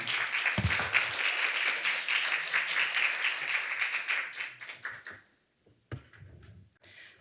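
Audience applause at a higher education finance forum as a Kangwon National University professor is welcomed to lecture; brisk, close clapping from a room of people for about five seconds, fading out, followed by a few stray sounds.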